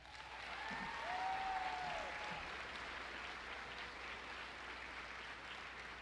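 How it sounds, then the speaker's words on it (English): Graduation ceremony audience applauding a graduate, a sustained, steady wash of many hands clapping in a large room, fairly distant and even throughout, with a faint whistle-like tone briefly rising over it. "Please give Eden Orgenta a round of applause"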